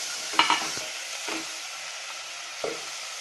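Tomato and green peas are sautéed with cabbage in a pan for a quick curry. Soft frying sizzle runs underneath a few distinct scraping stirs of a spatula, spaced apart, with no talking.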